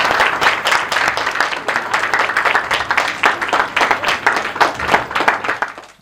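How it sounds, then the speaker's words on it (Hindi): A crowd applauds during a sangeet celebration and a foundation launch, with steady, dense clapping for about six seconds that stays loud and close before tapering at the end. "ताली हो जाए एक बार।"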